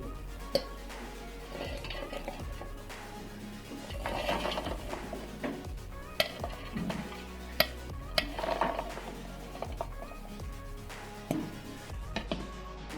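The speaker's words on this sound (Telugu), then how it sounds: "మూత పెట్టేసి గ్రైండ్ చేసేద్దాం సో ఫ్రెండ్స్ గ్రైండ్ చేసేసాం" A mixer grinder grinds sweet corn into a coarse paste with a close mechanical whir and rattle, swelling mid-way and broken by scattered sharp knocks and clatters of the jar.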